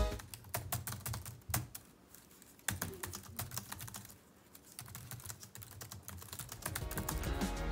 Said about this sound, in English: The keyboard is not mechanical, nor is it fatiguing to use. Sounds a bit like this.